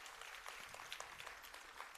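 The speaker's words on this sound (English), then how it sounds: "Give them a big round of applause." Applause for the dance orchestra at a Bharatanatyam arangetram recital, a steady, soft wash of clapping from an audience, fairly distant and continuous throughout.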